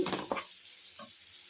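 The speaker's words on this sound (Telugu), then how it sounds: "ఇవి కొంచెం వేగనియాలి కొంచెం ఎర్రగా వేగాలి" Frying for egg curry, with onions and gravy browning in a pan; a brief close burst of sizzling and stirring fades quickly into a quiet low hiss with one small scrape.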